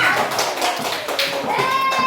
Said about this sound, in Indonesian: Tepuk tangan ya sama.